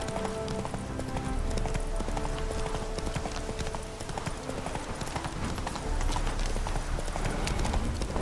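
Steady clip-clop of horse hooves trotting in The Witcher 3, at a brisk, even rhythm, close and continuous throughout, with a brief whinny-like sound mixed in.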